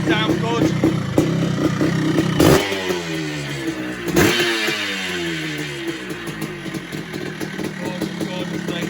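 A very original 1979 Honda CR250 Elsinore two-stroke dirt bike revs close up, its raspy engine rising and falling with two sharp throttle blips over a continuous running drone.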